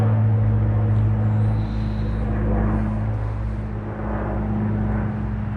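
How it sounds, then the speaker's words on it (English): A steady low drone of an airplane passing overhead fills the clip, loud and continuous with a constant hum and no speech. "I know you guys hear the airplane."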